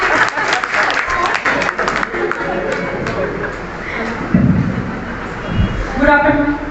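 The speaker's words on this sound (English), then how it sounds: "Clap for Shabina ma'am." Audience at a school farewell programme claps for a woman about to recite shayari, the clapping mixed with voices and crowd chatter, swelling and fading unevenly.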